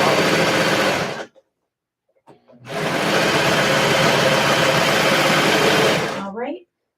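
A serger sewing machine runs in two loud, steady bursts, a short one and then a longer one of several seconds, with a silent pause between them. It is stitching fabric for a skort.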